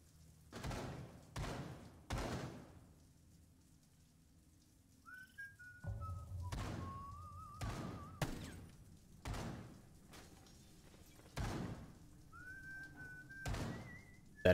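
Creepy whistling in Rainbow 6 Siege comes in two thin, wavering phrases, separated by a pause, amid a steady series of heavy thumps and door-like thuds.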